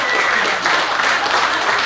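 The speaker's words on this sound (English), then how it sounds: "Let's give him a round of applause." Brief, steady crowd applause at a community meeting in a small business, a dense wash of clapping lasting under two seconds.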